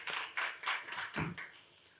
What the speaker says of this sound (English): I request all of the house to give thunderous applause.